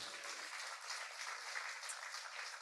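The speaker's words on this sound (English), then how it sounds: "He deserves a round of applause now." Steady applause from an audience, a dense wash of clapping that holds evenly throughout without any voices over it.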